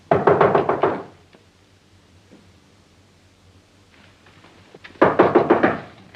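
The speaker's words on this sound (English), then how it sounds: "When you come to my room, knock like this" Two bursts of rapid knocking on a door in an old 1940 film scene, each a quick cluster of loud, close raps about five seconds apart, with quiet room tone between.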